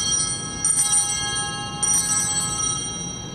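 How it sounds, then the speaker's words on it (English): Altar bells are rung three times during Mass, each strike giving a bright metallic jingle that rings on between strikes and carries through a resonant space. "when he does, you hit the bells three times"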